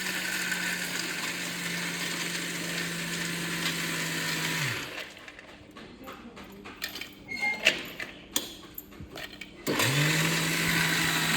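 A kitchen mixer grinder whirs loudly at a steady pitch for about five seconds, stops for several seconds of quieter knocks and clatter, then starts up again at full volume.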